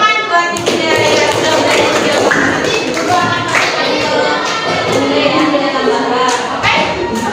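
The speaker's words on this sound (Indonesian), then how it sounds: "Berikan tepuk tangan buat Ibu ya" A classroom of children applauding their teacher, steady close clapping throughout with voices and shouts mixed in.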